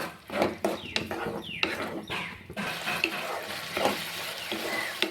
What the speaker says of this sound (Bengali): এবার সব কিছুকে ভালো করে মিশিয়ে নিয়ে আরও 1-2 মিনিট কষিয়ে নিব